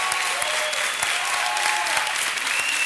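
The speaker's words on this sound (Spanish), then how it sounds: "Un fuerte aplauso para ellos." Studio audience applause on a Spanish late-night show, a dense, steady wash of many hands clapping at even loudness throughout, with faint vocal tones running beneath.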